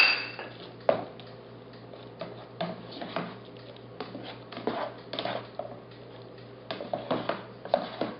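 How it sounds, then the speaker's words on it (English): Eggs and cheese being stirred in a pan for a breakfast burrito, a spatula tapping and scraping against the pan in an uneven run of close clicks and knocks. "So now we're going to add in the cheese and continue on stirring this."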